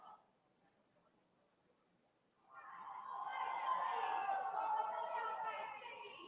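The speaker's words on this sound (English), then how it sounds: "the crowd is going wild here outside the Democratic Progressive Party's headquarters in central Taiwan" A crowd cheers outside the Democratic Progressive Party headquarters in central Taiwan on presidential election night; near quiet gives way after a couple of seconds to a loud, sustained roar of many voices that holds to the end.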